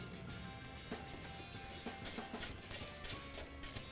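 Screws are driven back into a 2015-2017 Mustang upper grille with a hand tool, giving quiet, close ratcheting clicks that come in quick bursts, mostly in the second half.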